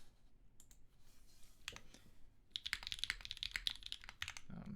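Typing on a mechanical keyboard with long pole orange switches on a PP plate and GMK Lime keycaps, a few scattered clacks followed by a quick dense burst of close, crisp key presses.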